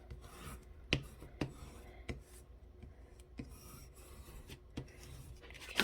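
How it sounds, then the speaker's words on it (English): Paper being burnished by hand on a 5x7 mini album, quiet close rasping rubs with soft scratchy strokes and several distinct taps spaced irregularly. "we're just going to burnish this around"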